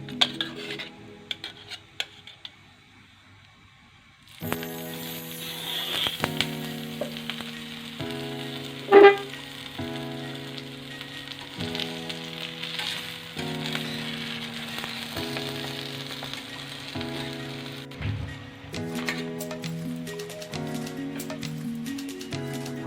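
A stuffed aloo and chicken paratha fries in ghee on a hot pan, giving a faint, steady sizzle with occasional utensil clinks, mostly buried under louder background music.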